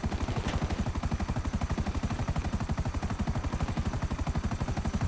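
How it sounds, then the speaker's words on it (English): A helicopter flies in GTA Online during a contact mission, its rotor chopping in a steady, fast, even beat that is close and continuous, with no other sound standing out. "I'm so glad I'm flying the helicopter"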